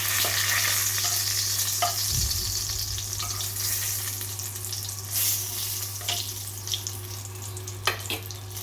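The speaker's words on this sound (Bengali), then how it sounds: "এবার কড়া বসিয়ে তেল দিয়ে দিলাম সাম্বারের জন্য দিয়ে দিলাম শুকনো লঙ্কা তেজপাতা" Dried red chillies and a bay leaf sizzle in hot oil in a kadai, a constant close crackling fry with a few scrapes and clinks of a spatula, no talk.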